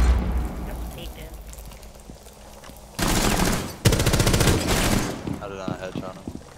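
Gunfire in Rainbow Six Siege: two loud sustained bursts of rapid automatic fire in the middle, with quieter game sounds and faint voices around them.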